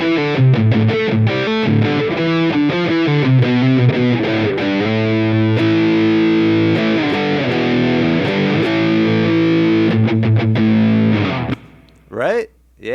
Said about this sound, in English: now the next gain stage is going to be distortion